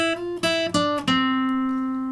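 A short guitar phrase from a song of several quick notes joined by hammer-ons on the third string, each new pitch sounding without a fresh pluck, ending on a sustained ringing note.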